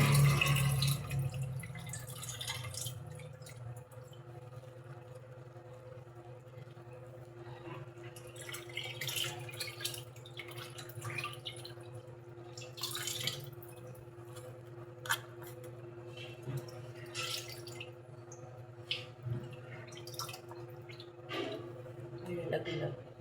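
Sliced bitter gourd (ampalaya) being washed by hand in water, with splashing, dripping and swishing in a kitchen while a person talks.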